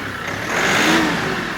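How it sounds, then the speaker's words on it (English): A Kioti NX tractor's mid-pitched engine briefly swells as the throttle rises, close and steady under a rough mechanical rumble, with no voices. "you have to throttle up and then push the pedal down to make the tractor work"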